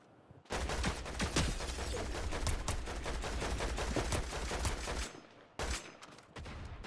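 Rapid, sustained bursts of Fortnite gunfire crackle densely for about five seconds, then cut out briefly before more shots resume.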